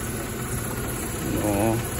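A Mercedes-Benz W212 E300 engine idles after a cylinder head repair, a steady low rumble close by with people talking over it.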